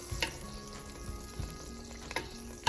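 Chicken fries in olive oil in a pot on the fire with a close, steady crackling sizzle, punctuated by a few louder pops and stirring knocks, and no talking.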